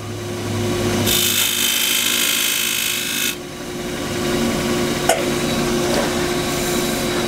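A wood lathe spins a cross-grain wooden box while a gouge cuts the bottom, giving a steady hum with a harsher scraping hiss for about two seconds, then continued cutting and a sharp tick near the end, no talk.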